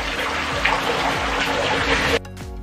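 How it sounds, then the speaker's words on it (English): Running water pours steadily during a hair rinse on a wash day for 4C afro hair, a constant splashing flow that stops abruptly near the end. "Now it's time for me to rinse my hair."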